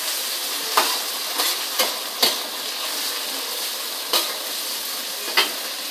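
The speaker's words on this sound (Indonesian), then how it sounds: "Lalu diaduk-aduk hingga udang matang dan bercampur rata." Oyster mushrooms stir-fried with chili, tomato, meatballs and shrimp sizzle steadily in a pan, close and clear, with repeated sharp scrapes and clinks from the spatula stirring at irregular intervals.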